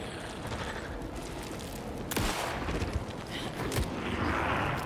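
Gunshots in Alan Wake 2, a couple of sharp, loud cracks standing out over dense, rumbling game ambience, with further impacts toward the end.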